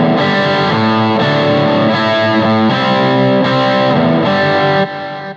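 A heavily distorted electric guitar plays a simplified hard rock riff, with sustained chords changing in a steady rhythm, loud and close with no talking.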